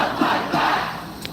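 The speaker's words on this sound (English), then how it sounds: "This is a protest against Tim Walz." Protest crowd chanting against Tim Walz, many voices shouting together in a loud, rhythmic call that swells and dips across the moment, with no single speaker standing out.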